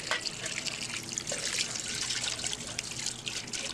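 Steady running water trickling and splashing over a vessel in a sink, continuous and close, with no voices.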